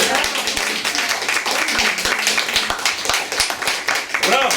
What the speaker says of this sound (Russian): Это вам аплодисменты, девчонки!